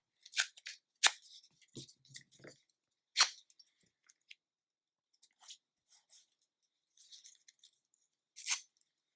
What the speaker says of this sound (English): we are going to tape this down nice and secure so it doesn't move